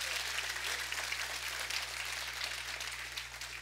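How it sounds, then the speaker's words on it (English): A church congregation claps hands during a sermon, a dense, continuous round of applause heard at a distance and fairly faint, with a steady low hum beneath it. "Give God a better hand clap."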